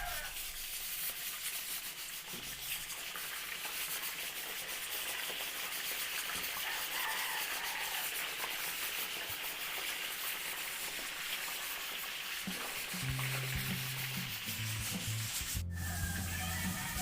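Batangas style embutido frying in a pan, a steady, dense crackling sizzle that fills the whole stretch at low level, with a few clattering knocks near the end.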